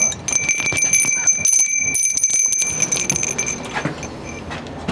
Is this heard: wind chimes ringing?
yes